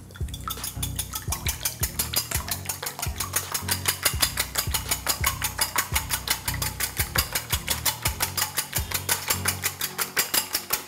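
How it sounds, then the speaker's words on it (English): Eggs being whisked in a bowl for a healthier yam and eggs dish, a fast steady rhythm of metal tines clattering against the bowl, close and loud, running continuously with no talk. "So we're going to whisk our eggs."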